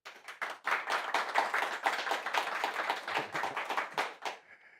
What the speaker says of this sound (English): I don't know if that applause from our audience was deserved or not, but I accept it